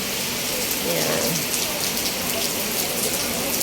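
Steady, dense rain falls during a typhoon at a farmhouse, a continuous loud hiss of drops on surfaces with no break, heard from close by.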